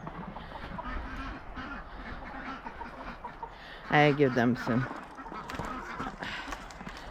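Runner ducks quacking in a loud, raspy burst, with chickens clucking around them and a person speaking briefly nearby.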